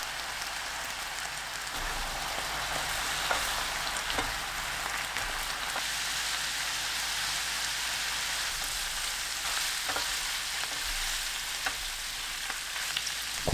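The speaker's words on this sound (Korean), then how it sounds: "삼겹살이 완전히 익을 때까지 센 불로 볶아주세요." Thinly sliced pork belly is stir-fried with garlic and mirin over high heat, giving a continuous, even sizzle with light scraping and stirring sounds. No one speaks.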